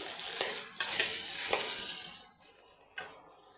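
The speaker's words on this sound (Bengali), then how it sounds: "এবার এই কালো জিরা ভাজা আমি মিশিয়ে দিচ্ছি" Roasted black cumin is stirred into a bottle gourd curry in a pan, with a soft sizzle and several scraping stir strokes, some sharper and spaced a few beats apart, close and fairly quiet.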